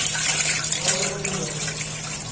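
Steady rush of running water from a tap as beef pieces are washed, with a constant gushing hiss and faint handling splashes throughout.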